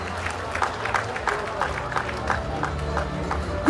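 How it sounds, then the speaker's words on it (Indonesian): An audience at the closing ceremony of Festival Tabut 2024 in Bengkulu claps in scattered, uneven bursts. The applause is moderately loud, with crowd murmur and talk running beneath it. "Berikan tepuk tangan yang meriah Bapak Ibu hadirin untuk Festival Tabut"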